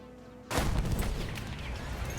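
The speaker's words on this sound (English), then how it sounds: "Explosions." A sudden heavy boom cuts in after a quiet moment, followed by rumbling, crackling blasts like game explosions.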